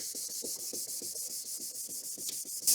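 Rapid, even back-and-forth sanding of a car headlight, with a fast regular rasping rhythm that continues without pause and is heard alone at close range.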